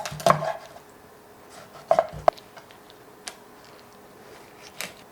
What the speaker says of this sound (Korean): 저는 오늘 7cm 정도의 크기로 토막을 자르겠습니다.